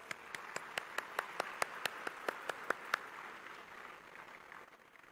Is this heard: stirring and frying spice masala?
no